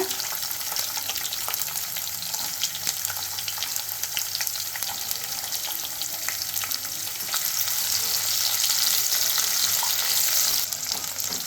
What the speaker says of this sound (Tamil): இப்போ ஒரு 10-12 சின்ன வெங்காயம் போட்டுக்கோங்க.